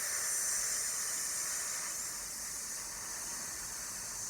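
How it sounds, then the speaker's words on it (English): A person exhales in a long, steady hiss of breath, close and fairly soft, fading slightly toward the end. "then I'm going to ask you to release in a kind of hissing sound like this."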